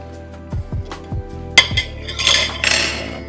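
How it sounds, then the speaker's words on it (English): Dishes clinking as fried plantain is placed onto a plate, with several soft thuds, one sharp ceramic clink, and a brief scraping rustle close up, over a faint steady hum. "So I'm just gonna put some plantain on the plate."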